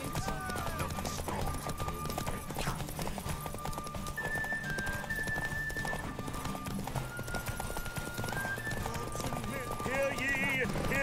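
Roach the horse gallops in The Witcher 3 with a rapid, steady clip-clop of hooves under game music and a talking voice. It is loud and continuous throughout.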